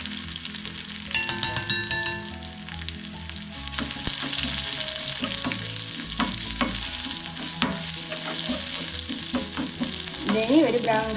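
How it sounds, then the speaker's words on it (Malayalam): Crushed garlic sizzles and fries loudly in hot oil for bitter gourd thoran, with steady crackling and repeated stirring scrapes throughout, close and alone without talk. "ഇതിന് ഒരു ബ്രൗൺ കളർ വരെ ഇളക്കി കൊടുക്കാം."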